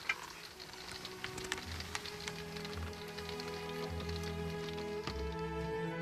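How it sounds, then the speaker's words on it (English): Light morning rain patters steadily on a surface in Norway, a soft continuous hiss with scattered drips, faint and alone with no talk. "getting a bit of rain this morning"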